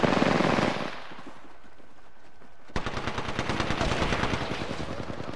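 Rapid automatic gunfire bursts in Apex Legends during a match involving Octane and Pathfinder, loud and close, with an earlier burst, a brief lull, then sustained rattling fire.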